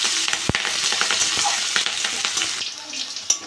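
Onion and green chili frying in hot mustard oil, a loud close sizzle broken by sharp stirring clinks and scrapes, no speech.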